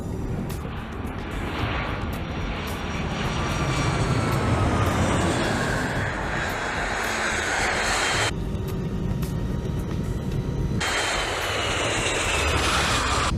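A jet airliner touching down on a runway, its engine roar steady and loud throughout with a rushing, broadband rumble and a brief shift in tone midway as the landing rollout continues.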